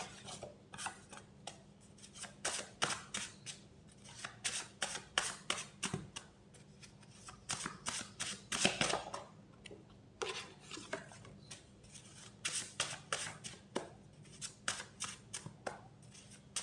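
Tarot cards being shuffled and drawn by hand, with bursts of crisp riffling and rubbing card sounds in irregular clusters, close and fairly quiet, with short pauses between bursts.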